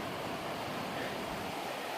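Kimsey Creek, a forest stream on an Appalachian Trail approach, gives a steady, even rushing of flowing water heard close and unbroken.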